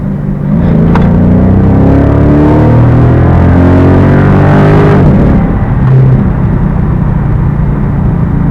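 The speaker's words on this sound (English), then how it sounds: "I'll give you a little taste of what the car sounds like." A 2012 Dodge Charger SRT8 V8 revs and accelerates on a road in Mexico, a loud deep rumbling engine climbing in pitch through gears with a shift around the midpoint before pulling hard again, heard close from inside the car.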